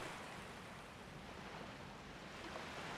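Ocean waves at a beach in the video game Persona 3 Reload, heard as a soft, steady wash of surf that runs evenly throughout at low volume.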